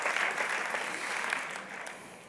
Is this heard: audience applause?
yes